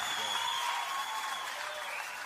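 Steady audience applause at a live sertaneja raiz country music show, a dense wash of clapping held at an even level throughout, with a faint sustained tone running underneath.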